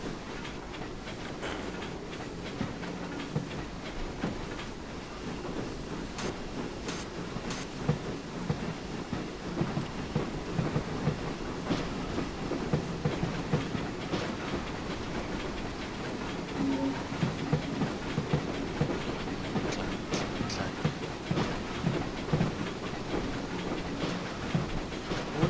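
A train hauled by a 3F Jinty steam locomotive pulls into a platform, rumbling steadily with rattling, clanking carriage noises and occasional sharp metallic clicks, continuous throughout.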